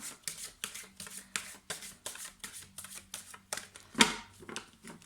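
A deck of oracle cards being shuffled by hand, a quick series of crisp riffling slaps and flutters, about a dozen bursts close up, ending in a sharper snap near the end.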